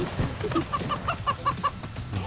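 Cartoon chickens in the video game Moving Out cluck in a quick series of short, pitched bursts, about seven rhythmic clucks over game background noise.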